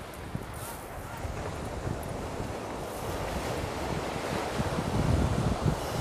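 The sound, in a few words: wind at the seaside with waves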